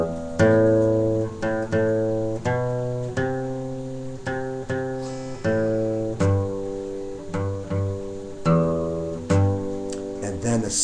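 Guitar melody from the first part of a song, played as a lesson example, including single notes on the sixth string. Plucked notes ring out one after another in a steady, moderate rhythm, close up and clear, with no talking over them.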